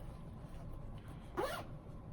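A zipper on a fabric knitting box bag is pulled closed in one quick, rasping stroke, close and fairly quiet over a soft room hum.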